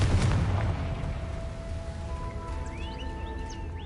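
In Hogwarts Legacy a Confringo fire spell lands with a sharp explosive boom right at the start, then decays into a rumbling tail while faint tonal magical shimmers rise afterward, and no one speaks.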